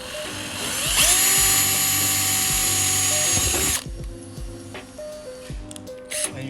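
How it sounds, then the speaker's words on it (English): A power drill whines loudly for a few seconds as it drills a hole for duct work, then cuts off, followed by quieter intermittent whirring bursts and clicks. "And you put the drill hole in there."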